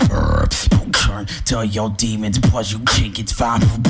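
A voice beatboxes a rapid rhythmic pattern of sharp clicky K-snare hits and breathy bursts, close and loud, imitating drum sounds.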